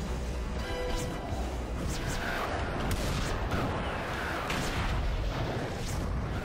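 Shotgun firing in the James Bond 007 Everything or Nothing video game, repeated heavy booms and crashes over a dense, constant roar of game action, loud and close throughout.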